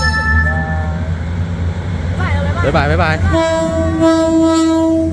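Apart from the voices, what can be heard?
train passing by with horn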